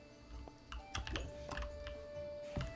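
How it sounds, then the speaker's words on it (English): Computer keyboard keys click and clatter in irregular bursts while a game plays, with a faint steady tone in the background and no talk. "Or can you only hear my keyboard clicking?"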